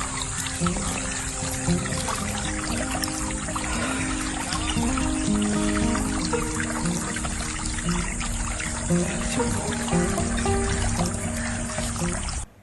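Water flowing steadily through a freshly dug irrigation channel on a farm, a continuous close trickling and gurgling with layered tonal background sounds, cutting off abruptly at the end.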